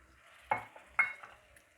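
Black masala roasting in a pan for a raw umbar (goolar fig) vegetable dish, heard as a soft sizzle with two sharp stirring scrapes of a spoon against the pan, close by.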